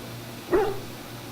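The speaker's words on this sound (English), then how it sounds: "I hear my doggy" A dog in the fantasy role-playing game Dragon Age Origins gives a single short bark, set inside a castle on the eve of battle. It is brief and moderately loud over a steady low background hum.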